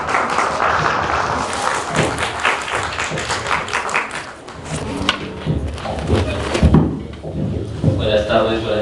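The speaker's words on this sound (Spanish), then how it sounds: "doctor César Tapia, quien recibimos con un fuerte aplauso" A room full of people clapping, dense and loud at first, thinning into scattered claps with a few thumps toward the end.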